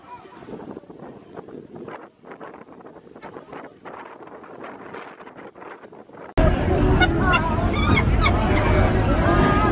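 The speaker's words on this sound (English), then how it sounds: "It's like super windy." Strong wind outdoors by a pool in Jamaica buffets the microphone, first as gusty rumbles under people talking, then as a heavy, constant roar that swamps everything.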